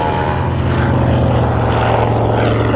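A WW2 Grumman Avenger TBM torpedo bomber at an air display roars loud and steady as it passes slowly overhead, the propeller engine drone filling the scene without pause.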